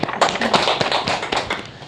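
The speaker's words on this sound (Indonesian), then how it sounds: "oke, tepuk tangan dulu" A small group claps briefly and unevenly at a pregnancy-support session, with distinct taps and slaps at close range over just under two seconds.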